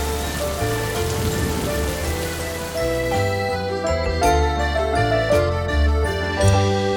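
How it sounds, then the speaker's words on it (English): Heavy rain pours steadily through the night in a dense, continuous patter, with soft tinkling musical tones layered over it and no voices. "It rained a lot."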